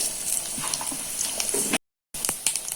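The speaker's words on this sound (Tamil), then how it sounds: "கொஞ்சமா சோம்பு போட்டு தாளிச்சுக்கிறேன்" Fennel seeds sizzling in hot oil in a kadai while tempering for a kudal gravy, a close, continuous crackling fry with small pops, cut by a brief silent gap near the end before the sizzle resumes.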